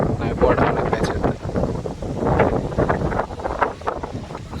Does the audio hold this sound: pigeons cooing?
no